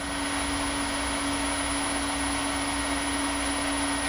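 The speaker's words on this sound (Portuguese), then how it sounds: "o motor vai rodando mais rápido." Three-phase electric motor running on a single-phase supply through a speed-control potentiometer, a steady loud hum with a strong constant tone and broad whirring noise, holding an even pitch throughout.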